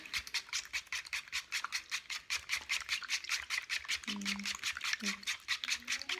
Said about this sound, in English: just whisk the eggs together